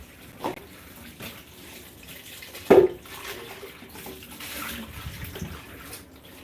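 Tap water running into a pot at a kitchen sink, a soft continuous splash with a sharp clank of the pot and several quieter knocks, no talking.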